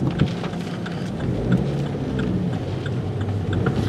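Thunderstorm with steady heavy rain pouring down, dense and continuous throughout with low rumbling thunder beneath, heard during a March storm chase.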